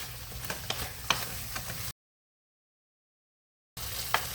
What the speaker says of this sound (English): So I'm just going to mix all that up real good until it's all warmed up good.